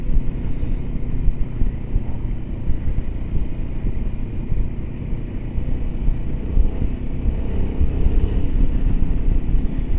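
A Royal Enfield Himalayan 450 motorcycle, a 450 cc travel bike, heard while riding: a loud, steady engine drone with road and wind rush, held continuously at near-constant pitch with no talking.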